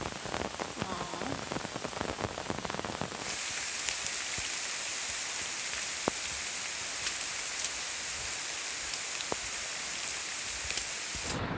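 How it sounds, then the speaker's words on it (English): Heavy, steady rainforest downpour in Borneo hissing densely and continuously, with scattered louder drops standing out close by; broad and enveloping throughout. "Because it is pouring rain."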